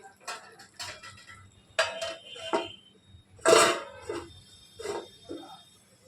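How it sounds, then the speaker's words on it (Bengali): Metal lid handled on a cooking pot of gandharaj chicken, producing a few separate clinks and scrapes spaced out over several seconds, close and fairly clear against a quiet background. "এবার ঢাকনাটা সরিয়ে নিচ্ছি।"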